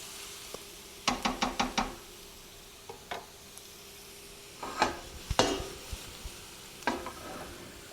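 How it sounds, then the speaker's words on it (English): A spoon scrapes and knocks against a pan as garlic is stirred, with a quiet sizzle of frying underneath and several clustered taps at irregular intervals. "stir it really good until it becomes fragrant, but you don't want the garlic to burn or turn brown"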